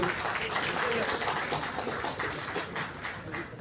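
A crowd claps continuously in a dense, steady wash of applause at a Durga Puja grant ceremony in Gangarampur, with a murmur of voices mixed in.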